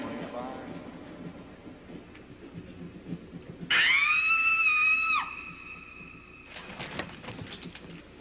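A sharp, high scream bursts out as the lights go out, loud and sustained for over a second with a wavering pitch, then cuts off, followed by a second shorter shriek, amid spoken dialogue and background rumble in a comedy scene.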